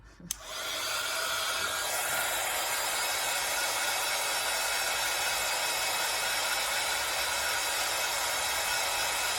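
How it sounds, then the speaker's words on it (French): Heat gun blowing hot air over a small Valentine's craft piece, a steady loud hiss and whir that starts abruptly and runs on without talk. "je le sèche un petit peu avec un pistolet chauffant, pistolet thermique"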